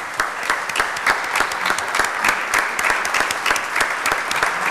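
An audience in the New York State Senate chamber claps steadily and fairly loudly, a dense patter of applause with no voices.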